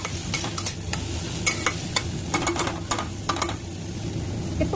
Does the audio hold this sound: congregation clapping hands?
no